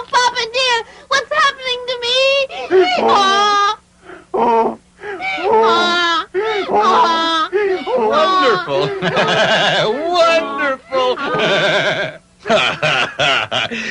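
In a 1978 English audiobook of Pinocchio, voices imitate donkeys braying, a run of loud, wavering, bleating cries that alternate with short pauses.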